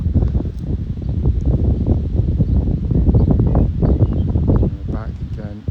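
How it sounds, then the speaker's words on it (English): Gusty wind buffeting the microphone in loud, rumbling bursts, with a voice talking underneath. "I apologise, it's quite windy today, so I hope you can hear me okay"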